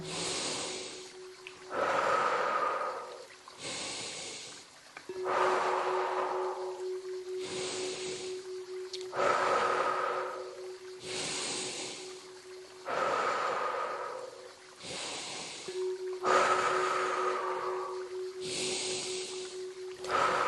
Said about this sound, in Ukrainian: І останній повний вдох, тримаємо і відпускаємо.